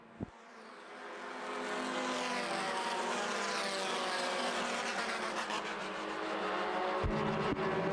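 Stock cars racing on the final lap at Winchester Speedway, a loud, sustained engine roar that builds and holds near the listener with a brief sharp knock, with no talk over it.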